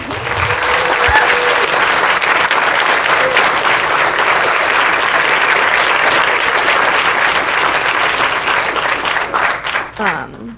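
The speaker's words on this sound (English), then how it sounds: "let's just all give them a round of applause." Sustained applause from a large crowd, loud and steady for several seconds, then tapering off at the end.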